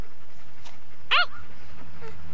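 A dog gives a single short yip or bark, fairly close in a quiet indoor room, with nothing else happening around it.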